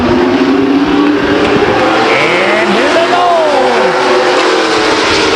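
Race trucks with GM Performance 350 V8 engines and S10, Dodge and Ford body styles roar around a speedway oval, a continuous loud engine drone with rising and falling pitch as trucks pass, under an announcer's voice.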